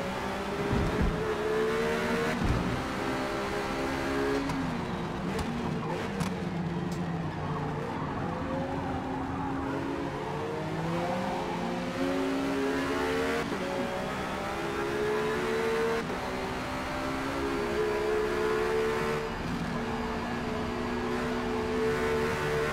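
A Ferrari GT race car in Forza Motorsport at Daytona roars continuously, its engine pitch sweeping up and down through downshifts and acceleration, loud and close with occasional tire squeal.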